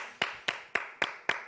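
Five sharp, evenly spaced claps from a small group of people, close and distinct with short silent gaps between them.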